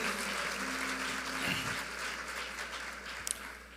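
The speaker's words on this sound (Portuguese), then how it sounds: "Vamos dar uma salva de palmas, honrar a vida dos voluntários que têm nos servido com tanto amor" A church congregation gives a round of applause for volunteers, with faint, diffuse clapping heard from a distance under a low background hum.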